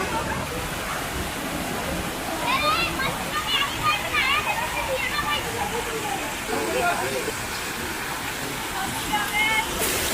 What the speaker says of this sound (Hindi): उस साइड में एक झरना बहता है और एक यहाँ पे।